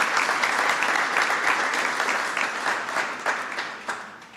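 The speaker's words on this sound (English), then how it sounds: "Would you all join me in giving a vigorous round of applause to the new Secretary of Labor for the United States of America?" An audience gives vigorous, sustained applause for the new United States Secretary of Labor at a Cinco de Mayo reception, dense clapping filling the room without speech.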